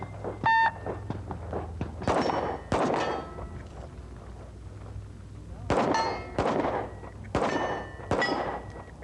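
Several sharp pistol shots with ringing steel plates in a 1984 Steel Challenge match, fired from a gun with a skeletonized aluminum trigger, coming in quick clustered pairs and bursts separated by short gaps, with a bright metallic ring after each impact.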